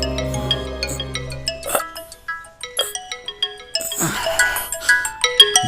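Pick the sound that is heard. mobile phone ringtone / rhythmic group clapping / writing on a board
mobile phone ringtone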